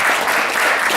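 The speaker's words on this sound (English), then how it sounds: "let's give them and yourselves a round of applause" An audience at a veterans summit at LMU breaks into applause, a dense, even burst of many hands clapping that fills the whole second.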